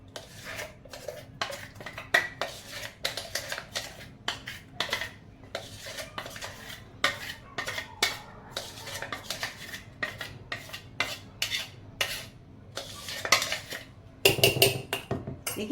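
Idli dosa batter being scooped out of a mixer jar into a pot, with repeated close metallic clinks and scrapes of a utensil against steel, and a louder clatter near the end.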